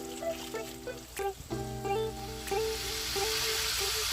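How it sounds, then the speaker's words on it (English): Chicken pieces fry in hot oil with a steady, close sizzle and crackle. Tonal hums and a few clanks sit over it, and the frying grows denser and brighter toward the end. "You want it to be frying as soon as that chicken hits the oil."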